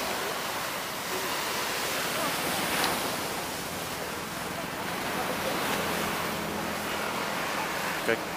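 Steady broadband roar of Indian Ocean surf at Mirissa beach, Sri Lanka, with waves washing in, mixed with wind buffeting the microphone.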